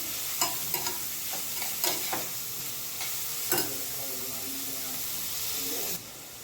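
Onion and curry leaves stirred in a hot pan for poha, with a steady frying sizzle and several sharp scraping clicks of a spoon against the pan, close and alone.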